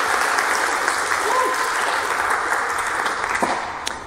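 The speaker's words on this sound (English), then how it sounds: "can I please have a shout out and a round of applause for my friend Rob" Audience at a talk on nuclear fusion technology at EMF2024 breaks into sustained applause, a full, even rush of many hands clapping that tapers off toward the end.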